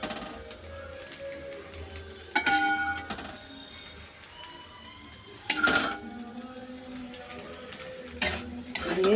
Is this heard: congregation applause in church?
no